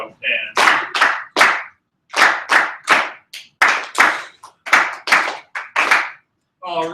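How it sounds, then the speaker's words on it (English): Students in a music class clap a rhythm together in unison, sharp group claps in short grouped patterns separated by brief pauses, close and clear with no talking over them. "Just do the clapping for this one."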